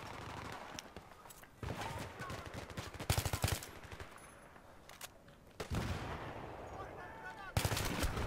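Bursts of rapid gunfire from the video game Battlefield 3, several sharp volleys separated by quieter stretches, loud and close.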